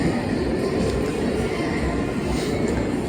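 Kolkata–Sairang Express pulling away from Kishanganj station, a steady broadband rumble of wheels and carriages, continuous and fairly loud throughout, with no clear voices.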